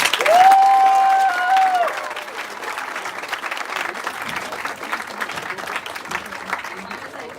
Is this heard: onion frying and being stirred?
no